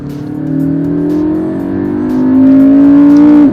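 A McLaren MP4-12C supercar accelerates hard in third gear, its engine note climbing steadily and loudly from inside the cabin before cutting off abruptly.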